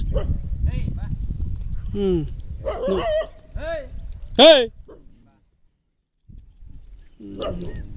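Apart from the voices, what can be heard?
dogs barking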